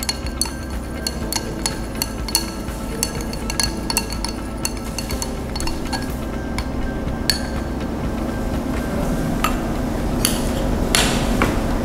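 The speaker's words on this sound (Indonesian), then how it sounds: "Kemudian kita aduk semua larutan." A soap mixture of oils and lye solution being stirred, with repeated clinking taps of a utensil against a glass container, irregular but frequent, close and fairly loud over a low steady background.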